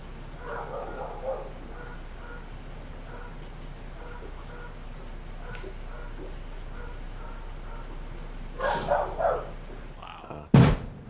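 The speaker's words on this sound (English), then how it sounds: "There's a few dogs." A few dogs bark faintly in the distance across a neighborhood, with short scattered bursts over background hum and a sharp bang at the end.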